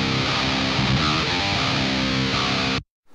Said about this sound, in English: This is how the TSE X30 sounds.